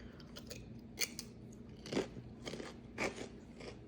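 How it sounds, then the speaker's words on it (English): Someone bites and chews crisp chips up close, with sharp crunches in a loose, uneven rhythm and softer chewing between them. "I gotta have my crunch, some type of chip"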